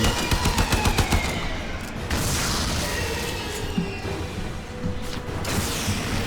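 Rapid automatic fire from a gun in Warframe, a fast rhythmic burst of close, loud shots followed by rumbling impacts and further scattered shots.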